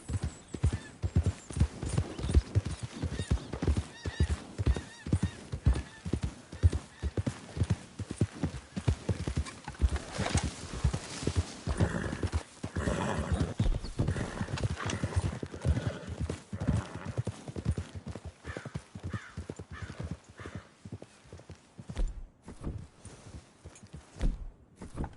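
Horse hooves in Red Dead Redemption 2 beat out a steady riding rhythm, close and continuous, with an occasional whinny over the clopping.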